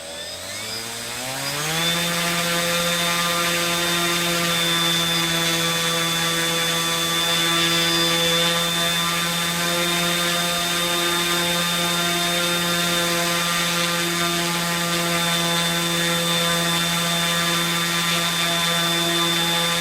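A 3DR Solo drone motor spins a folding propeller on a thrust test stand, rising quickly from a low hum into a steady, loud, tonal whine that holds level for the rest of the clip.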